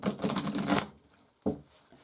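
Tarot cards are riffled in a dense, loud burst of papery flutter for under a second, followed by quiet and then a short second snap of cards.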